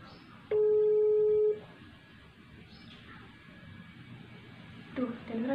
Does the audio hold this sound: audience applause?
no